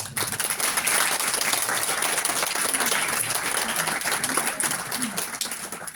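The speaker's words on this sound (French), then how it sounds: "je voudrais juste qu'on applaudisse notre médium des animaux, Christine" An audience at a spirit-medium conference gives a sustained round of applause, dense and fairly loud, with a few voices mixed into the clapping.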